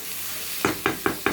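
Fried hilsa fish pieces going into a pan with salt and chilli powder: about four evenly spaced stirring scrapes over a soft background sizzle, close and moderately loud, with no voices.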